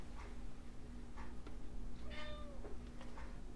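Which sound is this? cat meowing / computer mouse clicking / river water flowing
cat meowing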